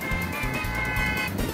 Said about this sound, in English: People are honking their horns for no reason.